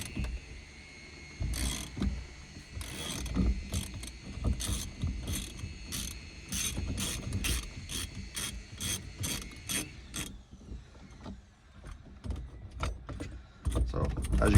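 A ratchet wrench cranks on bolts to pull a steering column off a vehicle, repeated clicking pawl strokes in bursts with metallic rattles and tool handling, close up, some faint talk in the background.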